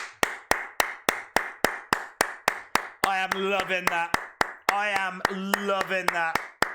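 A single person claps hands in a steady, evenly spaced rhythm of sharp nearby claps while watching a WWE SmackDown broadcast, and a voice talks over the second half of the clapping.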